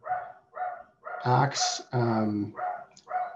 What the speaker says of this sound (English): pardon the dog in the background if you can hear that